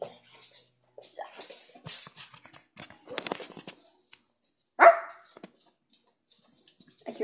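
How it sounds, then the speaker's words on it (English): Dogs barking inside a grandmother's house behind a closed door, heard as scattered, muffled yips and barks mixed with a louder single bark near the middle, with people talking quietly in between. "I hear dogs."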